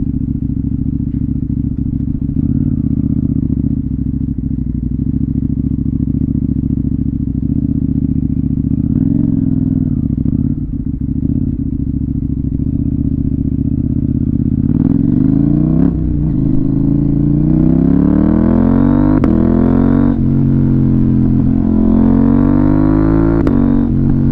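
A KTM Duke 890R motorcycle with an SC Project aftermarket exhaust idles with a deep, loud rumble, then revs and rises in pitch through a downshift from fourth to third, close and alone.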